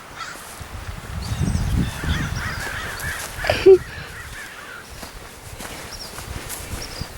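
Ravens cawing outdoors in a few scattered, moderately distant calls, with one louder sharp call standing out amid faint rustling background.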